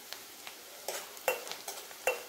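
Onion frying in a pan for a Hyderabadi chicken masala, with several soft scraping stirs at irregular intervals over a faint background sizzle. The sound is close and fairly quiet, and no one speaks.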